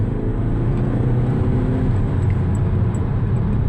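A car with a Kerma DSG tune pulls away from a green light on a Texas road, its engine a steady, close rumble and whir from inside the cabin, with the pitch rising through the first seconds.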